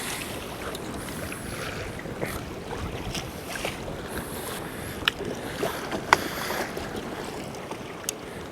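Wind rushes steadily around a pedal kayak on open water in rough conditions, with broadband gusty noise, lapping waves and occasional small knocks and clicks close by.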